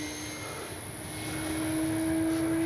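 A steady, thin whining drone of the small electric motor on a Durafly Excalibur V2 radio-controlled airplane, holding a high tone that grows slightly louder, with no talking.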